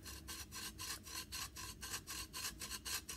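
Rhythmic rasping strokes of 1000-grit sandpaper flattening a small gun trigger part, about a dozen even back-and-forth passes, close and fairly quiet with no talking.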